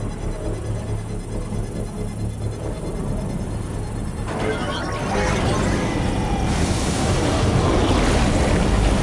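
A rushing gush of water from an underground spring in Death Stranding 2, a broad steady wash that swells noticeably louder partway through and holds there.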